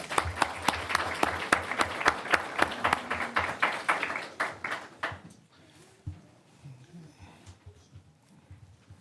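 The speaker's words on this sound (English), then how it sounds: "So one more round of applause for them" Audience clapping for volunteer greeters at a school board meeting, a dense burst of applause that thins out after about five seconds into scattered claps and low room murmur.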